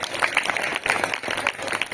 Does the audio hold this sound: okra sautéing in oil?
no